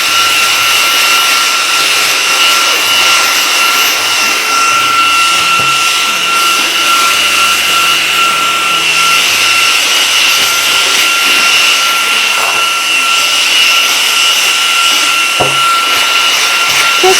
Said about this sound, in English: I just vacuum it very quickly outside